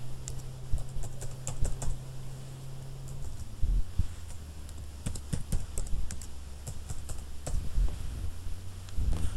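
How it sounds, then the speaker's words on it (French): Keys clack steadily on a computer keyboard as an admin username and password are entered into a Django admin login, a run of quick, close, fairly loud taps over a faint low hum, with no voices. "Je tape le nom d'utilisateur de l'administrateur."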